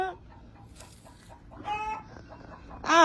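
Chickens cluck nervously close by, with scattered agitated clucks building to a loud, frantic squawk at the end.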